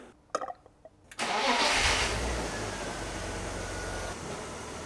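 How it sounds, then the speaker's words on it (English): A BMW E36 328i from around 27 years ago cranks and catches after a few clicks, then settles into a steady, fairly quiet cold-start idle with a low, even engine rumble close by. "The engine sounds good. Nice and quiet, cold start."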